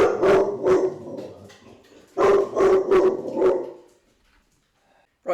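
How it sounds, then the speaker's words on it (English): A dog barks in two loud, close bursts of several sharp barks each, with a pause between them and quiet afterward, interrupting a maths lesson indoors. "just before the dog started barking"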